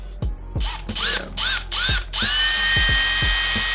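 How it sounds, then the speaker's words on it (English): A small drill bores holes through the plastic hood of a Toyota Tacoma body for an Axial SCX24 RC crawler, giving close, loud whirring bursts that start and stop repeatedly, with ratcheting clicks between them and a longer steady run at the end. "now I'm just gonna drill some holes through the hood"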